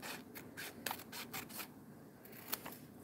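Scissors snip through paper for a junk journal art project, a quick series of close, crisp cuts in an irregular rhythm, with no talking.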